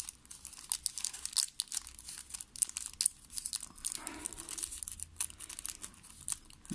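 Paper for an origami Spinosaurus is folded and creased close up, with soft crinkling and sharp crackles coming in quick irregular bursts, fairly quiet and with no talking.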